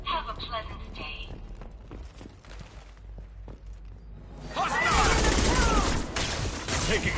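Rapid bursts of gunfire in the Mass Effect 2 shooter swell loudly in the second half, with hurried voices calling out over a combat soundtrack.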